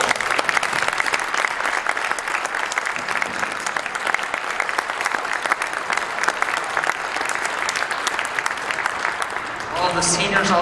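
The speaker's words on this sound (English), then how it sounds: "give them one nice round of applause." A concert audience applauds the seniors at a spring band concert, sustained loud clapping from a full crowd that tapers off near the end, with a few voices and a brief tonal sound at the close.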